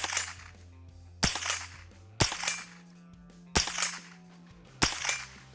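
Four sharp, loud gunshots from a 1522 gun at a shooting range crack out at uneven intervals of roughly a second, each followed by a brief ringing decay, with no talk between them.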